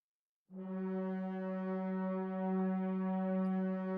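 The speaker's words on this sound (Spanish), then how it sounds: "El long sustain suena así." A sample-library instrument playing a long sustain articulation: one steady, rich, harmonic note starts after a brief silence, swells in gently, and holds evenly at full strength with no voices present.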